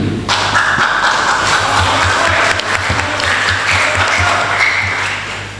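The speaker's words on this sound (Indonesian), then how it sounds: "Alhamdulillah tepuk tangan." Applause from an audience at a talk on Islamic scholars and the founding of Indonesia: a broad wash of clapping that starts abruptly, stays loud and steady, and fades slightly near the end over a low steady hum.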